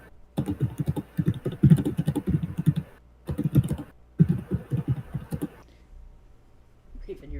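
Fast, loud typing on a computer keyboard in bursts of clatter, pausing briefly, close to the microphone, with talk around it.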